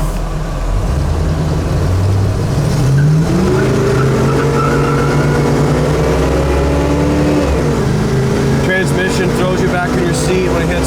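A 1969 Chevelle engine pulls hard while driving at highway speed, its loud, close roar climbing in pitch, dropping at a gear change, then rising again over steady road and wind noise.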